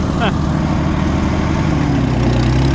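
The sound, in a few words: 1937 Oliver Hart-Parr 70 tractor engine running in gear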